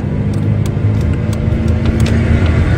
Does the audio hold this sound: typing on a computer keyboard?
no